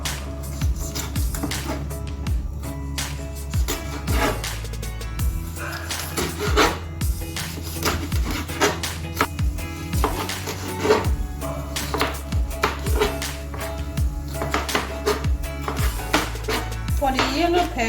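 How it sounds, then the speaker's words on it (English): A knife slices tatashe red bell pepper on a board in a kitchen making Nigerian efo riro soup, giving quick irregular knocks and taps over a steady low hum, with no talk. "before you slice the tatashe, make sure you remove the seed"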